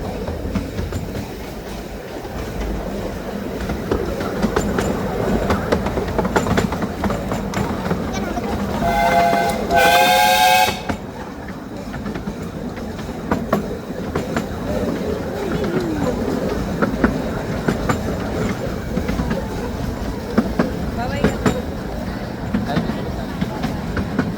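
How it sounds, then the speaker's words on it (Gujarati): A train pulls into Hatch End station in London, wheels rumbling and clacking along the rails, with a short whistle-like tonal squeal midway; voices talk intermittently over the steady rolling noise. "આ ટ્રેનનું સ્ટેશન આવ્યું"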